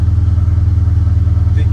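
1957 Chevy wagon V8 idling through its exhaust with new modified headers, a loud, steady low burbling pulse close to the tailpipe, lasting under two seconds.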